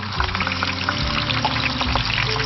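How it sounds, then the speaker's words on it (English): Bacon fries in hot oil with a steady, dense crackle and sizzle. The sound stays close and even throughout, with no one talking over it. "I'm just going to put the excess bacon in here, give it an extra flavour"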